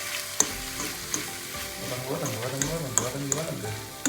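Ground coconut, turmeric and garlic sauté in a pan for squid roast, a continuous sizzle with periodic spoon taps, while a voice speaks over the cooking.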